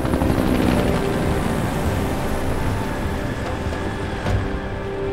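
Helicopter in the video game Resident Evil 5. A loud, steady rotor roar and engine whine continues without a break, with a brief swell near the end.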